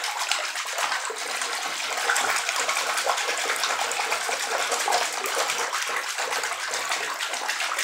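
A unicorn bath bomb fizzes in a tub of violet bathwater, giving a steady, dense hiss of bubbling and effervescence that runs on evenly throughout, without voices.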